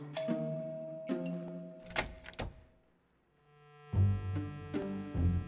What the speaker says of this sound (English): I'll ring the doorbell.